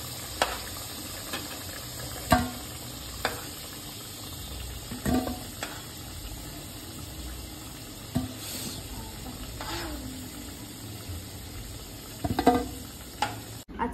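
Lightly fried potatoes for biryani go into hot oil in a low steady hiss, broken by a few sharp clinks and spatters from the pan. The sound is near and moderate, with no talking.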